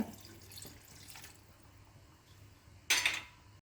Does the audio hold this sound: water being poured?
yes